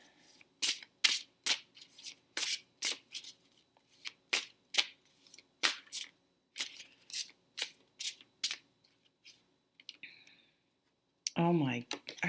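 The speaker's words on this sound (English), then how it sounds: "Let's pull some romance cards" Tarot cards being shuffled for a romance reading: a long run of crisp, close riffling bursts in a steady rhythm, with brief quieter pauses, then a voice speaks at the end.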